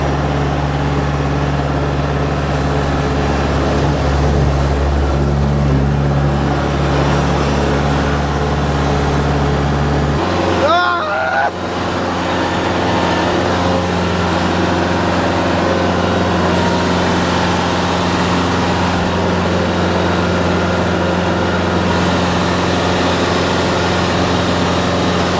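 Kubota tractor fitted with a snorkel, its engine droning loud and steady while driving, with a brief shift in pitch partway through before settling back into a constant low hum.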